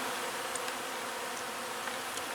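Bees swarming around a park bush, a steady, close insect buzz that hums continuously with faint higher whines as individual bees pass near.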